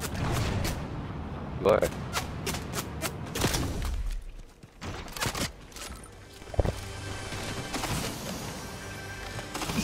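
Gunfire striking the player in the Fortnite video game, a series of sharp shots and impacts in bursts amid game effects, with someone talking over the action.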